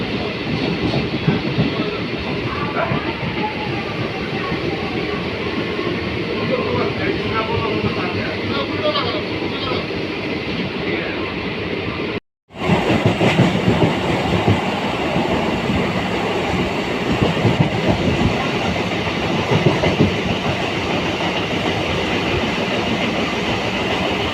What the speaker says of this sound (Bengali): ছুটে ছুটে গিয়ে জাস্ট যাই হোক করে ট্রেনটা ধরলাম আমরা, একটু হলে মিস হয়ে যেত